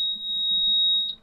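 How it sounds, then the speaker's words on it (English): A store security alarm system chirps as a door is opened, giving one steady, piercing electronic tone that holds for just over a second and then cuts off with a brief blip. "I'm gonna open this door, try not to set the alarm so the police don't come and see me"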